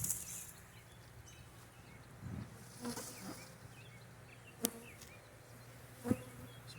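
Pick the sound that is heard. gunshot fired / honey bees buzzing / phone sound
honey bees buzzing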